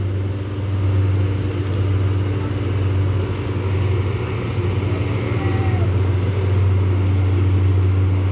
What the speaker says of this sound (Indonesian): di sini ada truk termoki.